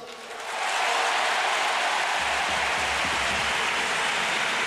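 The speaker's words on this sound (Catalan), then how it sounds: "El públic respon amb aplaudiments a aquesta iniciativa de Cruyff" Audience at a Barcelona football club gathering bursting into applause, the clapping swelling within the first second into a dense, sustained roar of many hands that holds steady and loud to the end.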